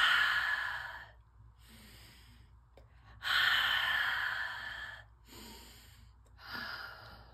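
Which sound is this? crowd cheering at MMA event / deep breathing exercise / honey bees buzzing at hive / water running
deep breathing exercise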